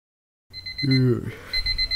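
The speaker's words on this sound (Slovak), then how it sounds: "Bože, drbnutý budík, kámo." Alarm clock ringing in the video game Minecraft, a thin high electronic beeping that starts after a short silence while rain patters faintly underneath and a voice speaks over it.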